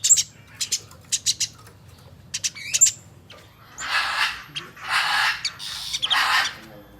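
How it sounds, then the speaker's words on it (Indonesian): A tame house sparrow used as a master bird for songbird training, giving sharp, repeated chirps in quick bursts followed by longer, rough chattering phrases, close and clear with no talking. "Burung greja ini juga bisa untuk masteran burung-burung ocehan."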